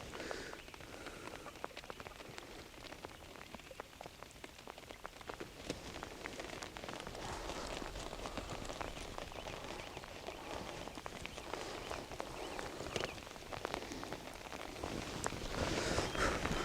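Heavy, chilly rain falls steadily across a fishing lake, a dense hiss of drops hitting water and surfaces with scattered louder patters, continuous and close with no voices.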